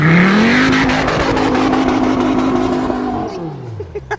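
A Dodge Hellcat's supercharged V8 held hard against the rev limiter, a loud steady bouncing roar at constant pitch for about three seconds before the revs drop and fade.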